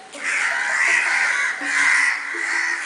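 Crows cawing while mobbing an owl, a few harsh, drawn-out caws at moderate distance, overlapping with no speech.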